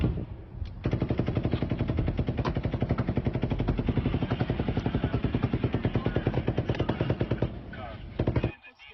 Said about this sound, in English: Paddock fires a ninth burst of fire right over a line of cabs and into the crowd